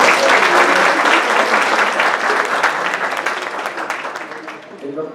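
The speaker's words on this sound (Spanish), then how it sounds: "Un aplauso," Audience applause at a formal event fills the space, loud dense clapping from many hands that gradually thins and fades toward the end.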